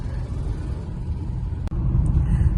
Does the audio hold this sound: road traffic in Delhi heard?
yes